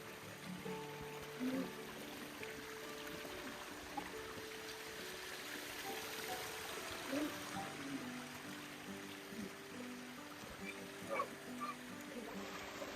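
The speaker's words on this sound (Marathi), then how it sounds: "ह्याच पायऱ्यावरून मोठमोठाले धबधबे वाहतात." Water rushes down the stone steps of Korigad fort near Lonavala as a steady, close, broadband wash, with faint voices and small knocks scattered through it.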